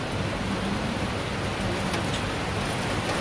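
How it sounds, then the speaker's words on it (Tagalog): Heavy rain pours down in a dense, steady roar of broadband hiss that stays loud and even throughout, with no voices over it. "Lakas naman ng ulan."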